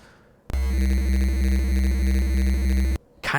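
A steady, loud synthesized sine wave tone from the LSDJ wave channel holds for about two and a half seconds and then cuts off abruptly, with near silence on either side.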